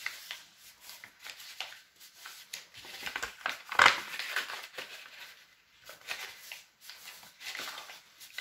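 Origami grid paper having its creases sharpened, a run of dry rubbing and crinkling strokes close up, uneven in rhythm with one louder press midway.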